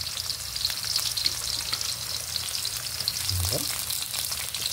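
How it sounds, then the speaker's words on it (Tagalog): Ginger and garlic sauté in oil in a pan, the first step of a frog adobo, giving a steady close sizzle and crackle with occasional stirring scrapes, while someone briefly speaks over it. "Hintayin lang po natin mag golden brown ang ating mga panggisa"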